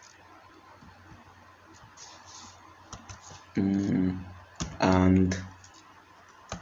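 Light clicks of typing on a computer keyboard come up close, scattered and sparse, while a person speaks over part of it.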